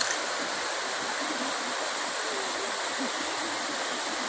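Water overflows and pours continuously in a steady, even rush, loud and close throughout, with no talk over it.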